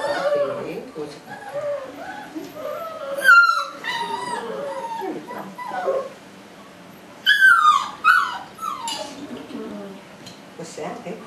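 Puppy whimpering in high, wavering yips and whines, close by and interleaved with a person's cooing talk, plus a few clattering knocks.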